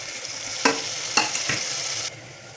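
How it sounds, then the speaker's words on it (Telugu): Tomatoes tipped into frying masala for chole, with a bright sizzle and a few sharp stirring scrapes and clatters before the sizzle drops off abruptly. "ఇప్పుడు మనం టమాటాలు ఇందులో యాడ్ చేస్తున్నానండి నేను."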